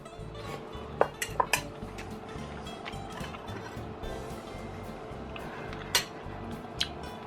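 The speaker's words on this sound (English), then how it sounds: "Let me get that twirled up on my fork and put it in my mouth" A fork twirling beef lo mein noodles on a plate, soft scrapes and several sharp clinks of metal on crockery against a low background hum.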